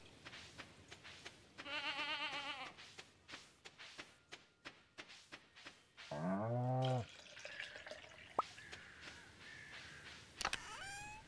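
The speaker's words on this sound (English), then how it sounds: "Our goats aren't adults yet." Goats in the farming video game Stardew Valley bleat in two distinct cries, one short and nasal, then a longer lower one, amid clicking game sounds and a brief whoosh.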